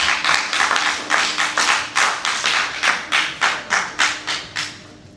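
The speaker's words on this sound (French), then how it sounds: "que je vous demande d'applaudir." Audience clapping at a university debate semi-final, a steady burst of hand claps that thins into distinct rhythmic claps toward the end, fairly close and loud with no talk over it.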